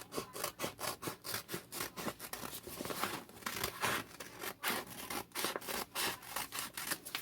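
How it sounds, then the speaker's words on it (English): A small index cutter trims craft material for a dollar-store home decor project, giving a close, rapid series of rhythmic rasping cutting strokes with no talking. "I'm going to use my little index cutter here to trim it up if I have to."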